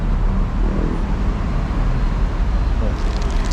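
Long Transjakarta buses roll past in dense Jakarta street traffic, a steady loud roadway rumble with engine drone throughout, and a person talks over the noise.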